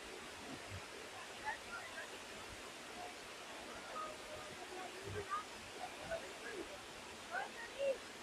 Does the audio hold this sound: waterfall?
yes